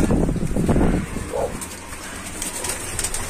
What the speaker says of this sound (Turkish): Önce bir şu güvercinlerimizi çıkartalım.